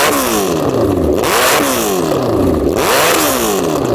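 A supercharged Suzuki Hayabusa motorcycle engine revving hard, pitch sweeping up and dropping back in repeated bursts, loud and close with no talking.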